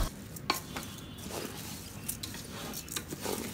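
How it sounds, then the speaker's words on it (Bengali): Rice fried in sunflower and mustard oil inside a cooker for chicken biryani, a soft sizzle under repeated scraping and stirring clicks of a spoon against metal. "এখন কুকার অন করে চালটা ভালো মতো ভেজে নিতে হবে"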